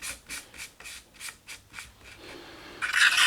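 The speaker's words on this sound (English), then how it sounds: "I'm just going to use the brush and just make sure there's no grimy bits inside there." A brush scrubs grime off camera gear in about eight steady back-and-forth strokes, close and fairly soft, ending in a louder, harsher scrub with no talk.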